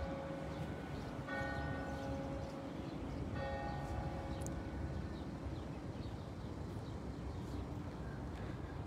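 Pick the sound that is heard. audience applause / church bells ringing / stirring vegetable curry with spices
church bells ringing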